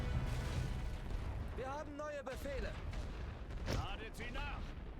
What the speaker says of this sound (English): Well, luckily they placed a really poor artillery barrage there.